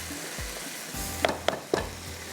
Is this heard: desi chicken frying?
yes